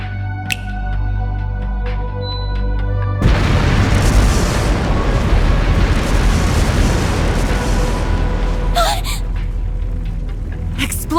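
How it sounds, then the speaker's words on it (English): Explosive artifacts scattered through a palace detonate in Trails Through Daybreak, a loud sudden boom giving way to a long rumbling roar with crackling bursts, following a droning hum and sharp clicks. "I figure I can whip up a nice little fireworks show to commemorate the life"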